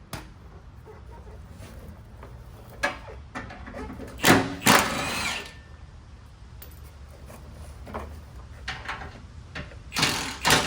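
A ratchet works loose the bolts of a Geo Tracker gas tank skid plate, with short bursts of clicking cranks, close and fairly loud, separated by pauses and small metal clanks.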